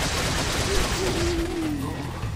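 Machine gun fire in Resident Evil 4, a dense rapid fusillade of shots blending into a continuous rattle, with a voice briefly audible beneath it.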